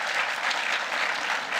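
An audience at a mayoral candidate launch event bursts into steady applause, a dense, even patter of clapping hands filling the room for the full stretch, close and fairly loud.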